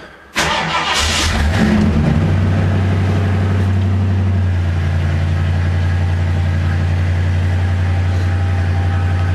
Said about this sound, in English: cold startup once I find the right key